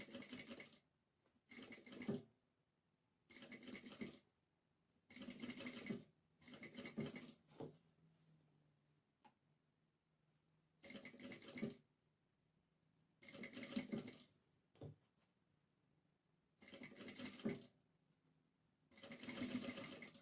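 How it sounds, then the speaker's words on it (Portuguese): A sewing machine stitches around the edge of a cloth diaper in repeated bursts of rapid whirring, separated by short quiet pauses, close and clear with no talk. "vou passando um pé de máquina, acompanhando aqui o arredondadinho."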